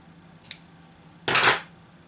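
A turkey wing feather has its end trimmed with a cutting tool: a faint snip, then a louder, brief crisp cutting rasp close by, with no talking.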